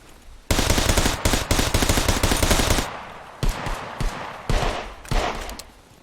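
Automatic gunfire in the survival video game SCUM, loud sustained bursts of rapid shots followed by several shorter separate volleys with brief gaps between them, no voices.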